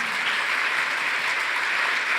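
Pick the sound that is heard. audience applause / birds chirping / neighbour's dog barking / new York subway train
audience applause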